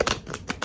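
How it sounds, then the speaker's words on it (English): Thin, flexible Golden Girls tarot cards being shuffled by hand, a quick run of soft papery riffles and flicks heard up close with no talking. "So I am noticing when I shuffle, they bend very easily, but they also shuffle very easily"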